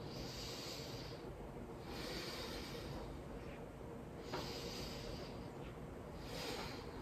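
Slow, deep breaths come close and audible while someone holds a yoga plank, two long inhale-exhale cycles with breathy hissing over a low background rumble, and no talking.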